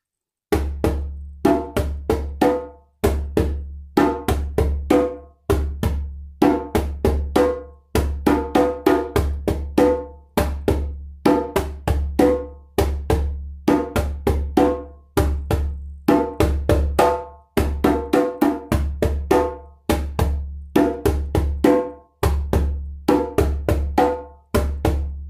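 A drum set plays a Masacote rhythm, a steady, looping groove of punchy low drum hits and sharper strokes repeating in a cross-rhythmic pattern. The drums are close and loud throughout, with no voices.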